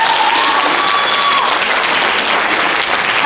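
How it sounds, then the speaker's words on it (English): An audience at an annual dance recital gives sustained, loud applause for a dance crew, a thick, even roar of clapping from many hands with a faint tone running through it. "Please give a round of applause once again for the Devdas crew."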